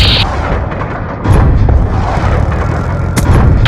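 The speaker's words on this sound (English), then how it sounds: "Lightning strike coordinates received. Inbound." In Black Ops 2, a Lightning Strike airstrike lands with heavy booming blasts, a deep rumbling impact after a short pause and sharper cracks of gunfire scattered across the chaotic battlefield.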